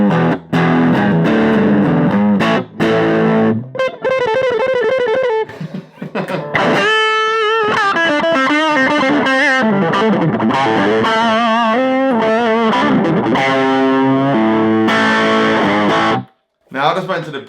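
A distorted electric guitar riff played loud through an affordable amp's gain channel with crunchy overdrive, busy melodic phrases running continuously with brief pauses near the start and end.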